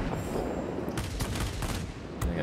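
Ki-162-III aircraft cannons firing in World of Warplanes, a rapid rattling burst of shots that is fairly faint under the game's ambient engine noise, with a couple of sharper cracks near the end.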